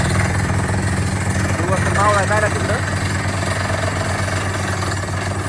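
A robotic-type borewell drilling rig runs loud and steady, its engine drone and rapid hammering pounding continuously at close range, while a voice speaks briefly over it.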